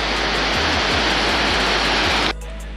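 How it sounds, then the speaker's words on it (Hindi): A snowmelt mountain stream rushes across a water crossing on the road to Chandratal Lake in the Spiti Valley, a loud, dense roar of flowing water that drops abruptly to a quieter hiss near the end. "चंद्रताल जाते हुए पहला नाला"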